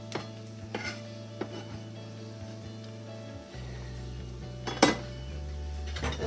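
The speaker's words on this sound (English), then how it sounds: "Let's give this a stir." A spoon scrapes and clinks against a pan while a salmon cake mixture with parsley is stirred, several distinct knocks over a steady low sizzle, close and fairly quiet, with no talking.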